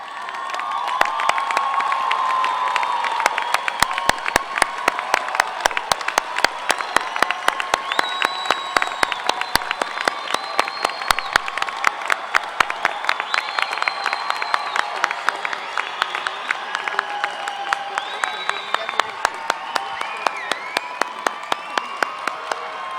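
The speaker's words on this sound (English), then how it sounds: "ask them to stand for a well-deserved round of applause" A graduating audience at a 2012 university commencement for a college of education stands for a long, loud round of applause, dense clapping mixed with cheers and whoops from a large crowd, with a few shouted voices over it.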